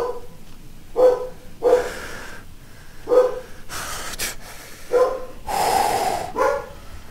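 A dog barks indoors in a home, a series of sharp separate barks at irregular intervals with breathy snorts between them, loud and close with no talking over it.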